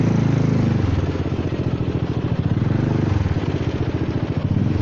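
Honda Forza 300 scooter ridden around a figure-eight course at a motorcycle licence test, its engine putting out a steady, pulsing mid-pitched drone whose tone rises and falls as it leans through the turns.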